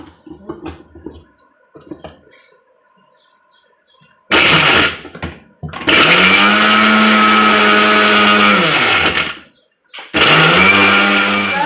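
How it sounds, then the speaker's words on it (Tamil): A mixer grinder grinds cut tomato and a small piece of tamarind for red chutney, with loud whining runs that rise and fall in pitch, separated by brief stops, after quieter handling sounds. "கட் பண்ண தக்காளி ஒரு சின்ன கொட்டைப்பாக்கு அளவு புளி சேர்த்து நைஸாக அரைச்சிட்டு வந்துடுவோம்"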